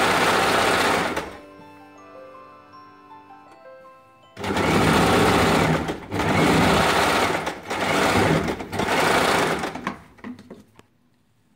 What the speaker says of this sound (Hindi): इस तरीके से सिलाई लगा दीजिए